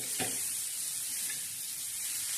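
Bitter gourd sizzles gently as it fries on a tawa, a soft steady hiss with one brief scrape of stirring near the start, fairly faint and with no talking.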